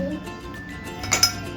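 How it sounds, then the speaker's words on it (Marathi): Ice cubes clink into a glass of salted lemon drink, a couple of bright knocks close by over faint room noise. "बर्फ टाकायचा थोडा"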